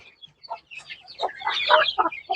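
Free-range country chickens and chicks on a small poultry farm cluck in short, close bursts that grow busier and overlap toward the end, with no talking.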